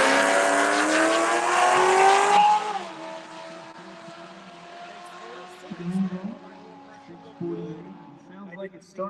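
A 2011 Corvette from Massachusetts on a drag strip, its engine roaring loudly at full throttle for the first couple of seconds and then dropping off sharply as it lays over at the top end, fading under crowd noise and talk.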